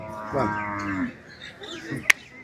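Cattle at a livestock market moo loudly up close, one long drawn-out low call followed by fainter bellows and a sharp knock near the end.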